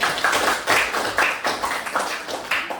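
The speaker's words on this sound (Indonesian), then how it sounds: "Para tepuk tangan dulu dong untuk kita semua dengan solid" Several people clap together in a steady, scattered patter for a few seconds, fairly close, with no voices over it.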